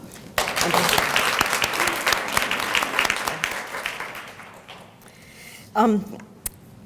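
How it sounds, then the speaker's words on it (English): Audience at an awards luncheon clapping loudly and steadily for several seconds, the applause fading out, then a voice speaks briefly near the end. "have a round of applause for everyone who is here today"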